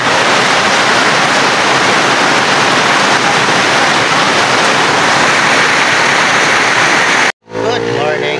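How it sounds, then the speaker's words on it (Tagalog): Heavy rain pours down over a goldfish breeding farm after a typhoon, a loud continuous wash of hiss and roar that cuts off abruptly near the end before a voice begins speaking. "maulan na umaga"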